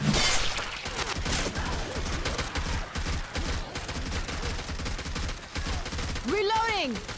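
A grenade bursts amid rapid gunfire in the zombie shooter Left 4 Dead 2, loud and dense, with a rattling barrage of shots and crashing impacts throughout and a sharp, echoing blast near the end.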